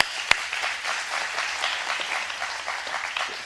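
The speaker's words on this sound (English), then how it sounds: "thank her with applause, but also give her a welcome" A room full of people clapping steadily, a dense patter of applause that holds at an even level throughout.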